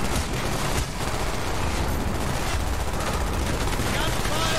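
Dense gunfire from Call of Duty: Black Ops, rapid automatic bursts and sharp reports layered into a continuous barrage, with voices shouting in the mix.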